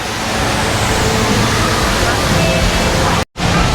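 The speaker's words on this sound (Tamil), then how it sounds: "எப்படி தண்ணி கொட்டுதுன்னு பார்க்குறீங்களே" Water from a waterfall pours steadily at Singapore Canopy Park, a dense continuous rush heard from a rooftop at some distance, broken by one brief dropout near the end.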